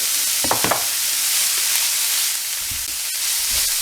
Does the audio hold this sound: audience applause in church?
no